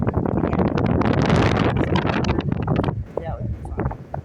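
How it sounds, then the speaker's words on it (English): Cold wind on a Wisconsin hilltop rushes and buffets loudly against the microphone, easing toward the end, with a person talking through it. "that wind is just blowing"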